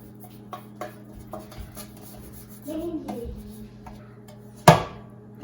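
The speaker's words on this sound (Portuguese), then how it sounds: "eu vou untar 2 formas de pão com manteiga" Butter is rubbed over the insides of two bread pans with soft scraping and scrubbing strokes, punctuated by light metallic taps of the pans and a sharp clatter near the end.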